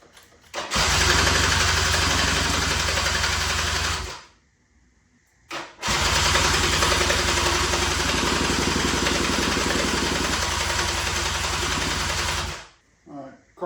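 A broken ATV engine cranks and catches, running loud and close at a fast idle for several seconds, cuts out, then restarts and idles again before stopping.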